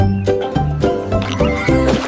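Horse whinnies set within a nursery rhyme, a loud, close neighing with a tonal, wavering pitch over a musical backing, and no talk.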